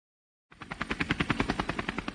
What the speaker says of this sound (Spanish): Aeroambulancia, el más completo y avanzado servicio de ambulancia aérea en helicóptero en nuestro país